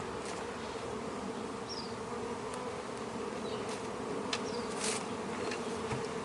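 Honey bees hum in a dense, steady drone around an opened hive, close by, with individual bees zipping past now and then.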